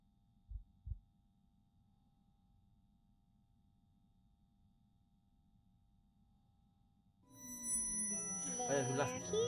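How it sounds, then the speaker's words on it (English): A single low, muffled double thump of a heartbeat from the ghost-hunting video game After Midnight sounds early on, followed by several quiet seconds before louder game sounds swell in near the end. "I can feel your heartbeat"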